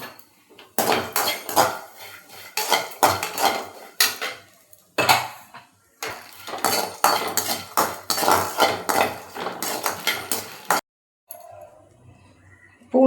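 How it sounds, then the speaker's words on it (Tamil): Skin-on garlic cloves dry roasting in an oil-free pan for a dried shrimp idli podi, with repeated rhythmic spatula scrapes and metallic clinks in close bursts, no voices, and a quieter pause near the end. "பூண்டு வறுத்து வந்துருச்சு."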